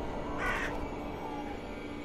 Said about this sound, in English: The crows are here.